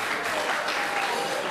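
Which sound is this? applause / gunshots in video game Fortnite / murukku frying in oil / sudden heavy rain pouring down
applause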